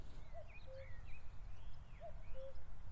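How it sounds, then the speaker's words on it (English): A cuckoo gives its two-note call twice, soft and distant, while small birds chirp faintly in the background. "Gotta be a cuckoo, isn't it?"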